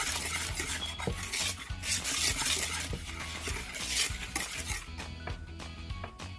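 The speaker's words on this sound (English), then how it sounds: "I'm gonna give it a good mix to combine everything together." Dry cake ingredients, flour with salt for a moist chocolate bundt cake, stirred together in a bowl, giving a steady close scraping and rustling with light clinks of a utensil against the bowl, no voices.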